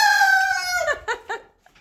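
Chickens in a coop, a drawn-out crowing call followed by a few short clucks, close and fairly loud, brief and without talk.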